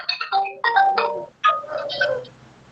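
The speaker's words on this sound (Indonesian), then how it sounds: "ada telepon tapi biarin aja, tapi tetap mengganggu" A phone ringtone plays a bright, repeating melodic pattern of short notes in quick bursts. It sounds fairly close and clear, with no talk over it, during an online class meeting.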